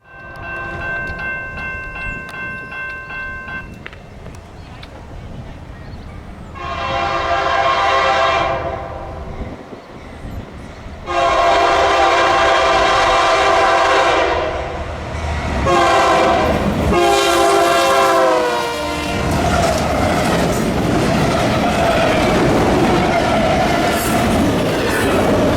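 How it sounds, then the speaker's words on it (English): Train I-171 roars past at 73 mph, loud and close, with several long blasts of its horn over the rumble and clatter of the passing cars. "I-171 came flying by at 73 miles per hour"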